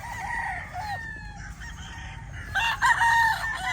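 Tethered breeding gamefowl roosters crow repeatedly, with one crow nearby and others further off, over a low background of farmyard noise.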